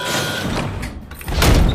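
A door sliding shut with a broad rushing scrape that ends in a heavy thud, close and loud, inside a chocolate factory set.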